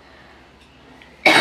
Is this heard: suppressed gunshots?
no